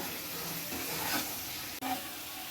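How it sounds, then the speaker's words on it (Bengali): Coriander, turmeric and Kashmiri chilli powder sauté in oil for a Bengali lotte fish jhol, a soft, steady low sizzle with faint stirring and a brief tap near the end. "ধনের গুঁড়ো দিচ্ছি হলুদ গুঁড়ো কাশ্মীরি লাল লঙ্কার গুঁড়ো এবার ভালো করে কষিয়ে নেব"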